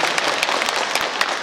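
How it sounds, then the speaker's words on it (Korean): At a book launch event, an audience gives the city mayor a round of applause, a dense crackle of many hands clapping with sharp individual claps poking through, steady and fairly close throughout. "크게 박수 한번 시장님께 보여주셨으면 좋겠습니다."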